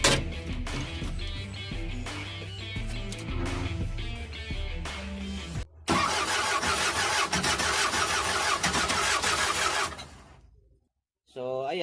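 Isuzu 4HF1 diesel engine with a newly replaced fuel pump cranking and catching, a loud, dense rumble that runs steadily before cutting off abruptly near the end, followed by a brief restart.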